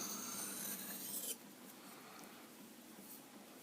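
Freehand sharpening of an ESEE Izula survival knife: a close, raspy scraping stroke of steel on stone, then a quieter, softer rubbing continues alone.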